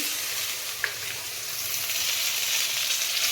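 Malabar spinach stems and potatoes frying in a pan, a soft continuous sizzle of oil with a faint clink near the start.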